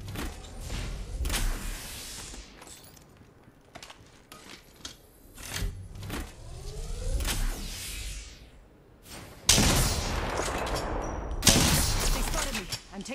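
Gunshots in Apex Legends: several sharp separate shots and short bursts, loud and close, with whooshes and thuds between them and talk heard at times.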